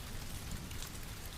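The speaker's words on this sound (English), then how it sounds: "rain pounding on the roof, the ocean roaring below" Rain pounding on a roof, a soft, steady wash of dense patter with no breaks, faint and even throughout, with no voices over it.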